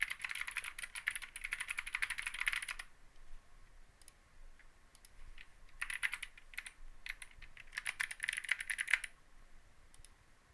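Typing on a computer keyboard while filling in a recipient's details on an online shop order form: close, rapid clicking bursts separated by quiet gaps, with no speech.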